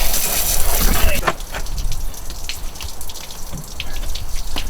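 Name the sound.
rinsing off with running water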